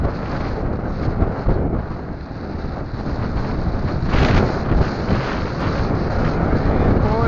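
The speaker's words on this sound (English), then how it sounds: "It's windy." Strong wind buffeting the microphone, a loud continuous roar with gusts swelling and fading, no voices.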